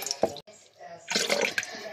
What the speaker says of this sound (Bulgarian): Сега с чаша слагаме вода.